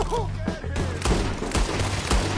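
Rapid gunfire rings out in a Red Dead Redemption 2 shootout, close overlapping shots in quick bursts amid a busy battle mix, with brief shouting voices early on.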